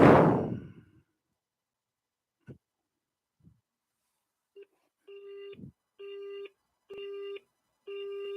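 A telephone line goes busy after a couple of faint clicks, then a steady repeating busy tone pulses in short, evenly spaced beeps, clear and close, heard alone without talking.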